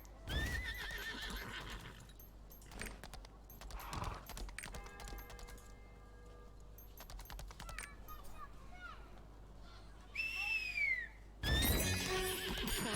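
A horse mount in the online game Lost Ark whinnies with a rising, shrill neigh near the end, amid hoof clip-clops, game effects and ongoing conversation between players.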